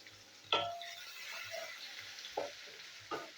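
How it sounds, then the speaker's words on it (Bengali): Chopped onion fries in hot oil with green chilli and nigella seeds for a fish dish, giving a steady close sizzle broken by a few sharp scraping stirs. "তো পেঁয়াজের কুচিটা আমি ভেজে নিই"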